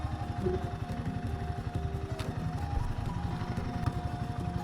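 Idling motorcycle engine running nearly out of petrol, a steady low putter with a faint whine on top, close by and without talk.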